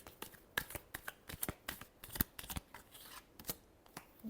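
A tarot deck is handled in a rapid run of sharp, dry card snaps and flicks, close and brisk, each click distinct against quiet surroundings with no voices.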